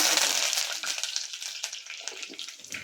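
Curry leaves sizzle and crackle sharply in hot oil, loud at first and then settling into a steady hiss with scattered pops.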